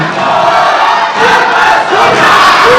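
A large audience at Indonesia's fifth presidential debate roars and cheers in one loud, continuous wave of crowd noise that swells and dips slightly but never stops.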